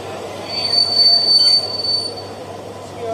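Train pulling into Hardoi station, with a sustained high metallic wheel squeal swelling and fading over a low rumble, loud and close.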